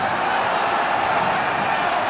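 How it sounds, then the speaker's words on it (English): A West Ham football crowd roars steadily behind its team at a match against Everton, a dense, loud wash of cheering and chanting that holds without pause. "West Ham crowd again getting behind their team"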